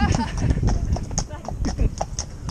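A horse's hooves clip-clop at a steady walking pace along a road, close and fairly loud, with a person talking over the footfalls throughout.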